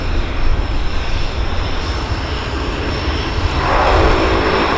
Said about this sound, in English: Love that sound. Twin Otter on wheels.